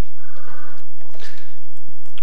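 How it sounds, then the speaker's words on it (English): A telephone in a high school office rings with a short electronic trill, loud and close, followed by brief faint rustling. "Phone. Telephone. Phone."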